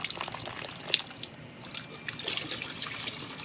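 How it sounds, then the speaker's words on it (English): Water trickling and splashing as sand is rinsed in a pan while panning for zircon, a soft, steady wash with a few faint drips, quiet and close, with no voices. "Rinse your sand."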